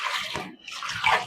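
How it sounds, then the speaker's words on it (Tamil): Water poured from a jug into a cooking pot of vegetable rice, a soft splashing pour in two short bursts with a brief gap between them. "தண்ணி ஒரு ஜக்கு போட்டு"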